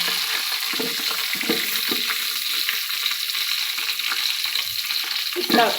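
Ghee sizzles hard in a hot pan as a leaf is dropped in, giving a loud, steady frying hiss with faint crackles throughout and no talking.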